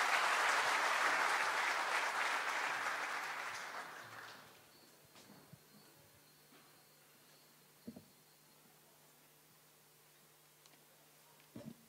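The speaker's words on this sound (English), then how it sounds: "I think deserving a louder round of applause." Audience applause for Mr. Pai at an engineering event, a dense burst of clapping from a crowd that fades out over about four seconds, followed by quiet room tone with a few faint knocks and rustles.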